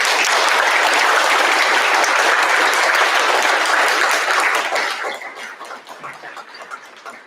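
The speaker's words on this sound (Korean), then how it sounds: "석동현 사무처장님을 뜨거운 박수로 모시겠습니다." Loud, sustained applause from a forum audience welcoming a speaker, dense and steady for about five seconds before thinning into scattered claps.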